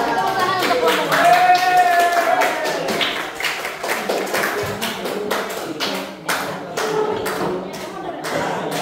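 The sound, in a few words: applause for a presenting group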